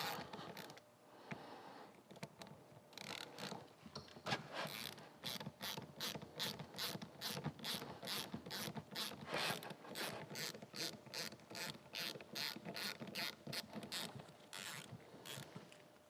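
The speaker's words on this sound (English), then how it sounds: "the first thing I'm going to do is take the tensioner off the back, and then we'll do a little snap ring on the front" Ratcheting mechanical clicks come from a cam tensioner being removed from a Harley-Davidson Super Glide engine, a steady run of fast, close, evenly paced ratchet strokes heard alone with no talking.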